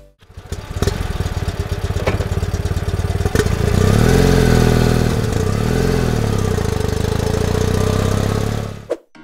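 Motorcycle engine, a World War II BMW R75, starts and runs close by, a loud steady chugging idle with a few revs before it cuts off at the end.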